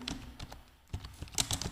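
Keys clatter on a computer keyboard as text is typed into a WordPress post, a quick irregular run of close, light clicks.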